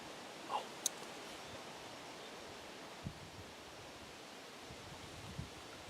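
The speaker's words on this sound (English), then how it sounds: "It's too windy to hear the death roll." Strong wind rushes faintly and steadily across an outdoor spot during a black bear bowhunt in Maine, a soft broadband roar with light rustling and a few brief clicks and knocks.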